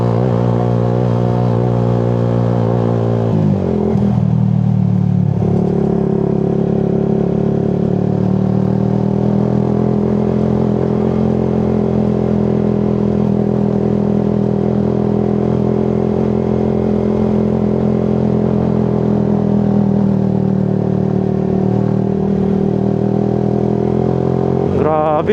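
Motorcycle engine running steadily on an uphill ride on a scenic road near Rizal, a continuous loud close drone after a brief shift in tone early on.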